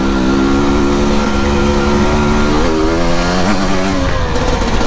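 A brand new 300cc two-stroke dirt bike engine rides close by, loud and buzzing, its revs rising and falling through throttle changes over rough ground.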